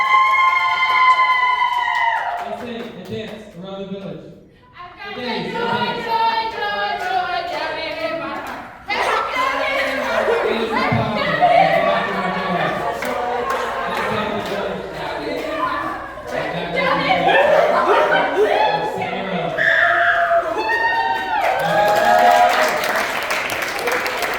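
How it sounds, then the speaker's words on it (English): A talent show audience cheers and claps, with children's voices shrieking and shouting in bursts over steady applause, while people talk and call out throughout at close range and loud volume. "The villagers cheer. They celebrate."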